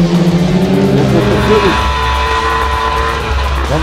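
Race cars of the CCA series taking the Engana-Mundo curve at São Bento do Sul, engines roaring loud and close with rising and falling revs as they pass, under a steady broadcast commentary voice.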